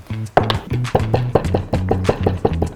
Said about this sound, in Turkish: Önce çörek otunu havanda birazcık dövmek istiyorum.